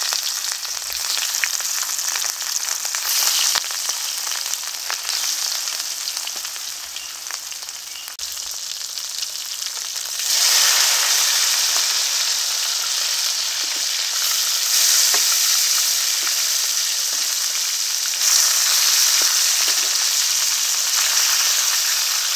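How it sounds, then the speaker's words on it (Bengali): Pieces of rohu fish fry in oil with a continuous, dense crackling sizzle that grows louder partway through, close up and steady with no voices. "এই তেলে এখন মাছগুলো ভেজে নেব।"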